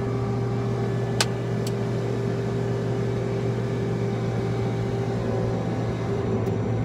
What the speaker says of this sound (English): take the parking brake off, engage the header